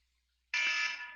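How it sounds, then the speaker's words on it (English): An electronic alarm suddenly sounds during a tabletop game session, a loud, sustained high-pitched tone that starts abruptly after a quiet moment and holds steady to the end. "that was my alarm"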